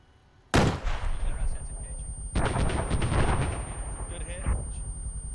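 During a military field exercise, a loud, sharp blast of rocket fire erupts close by, followed by a second heavy burst of firing and rumbling reports, with faint shouting voices underneath.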